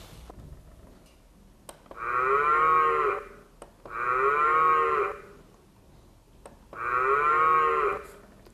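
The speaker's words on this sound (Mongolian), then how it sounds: "Үхэр" Three long, deep moos from cattle, each lasting about a second and a half, separated by short quiet gaps with faint ticking in the background.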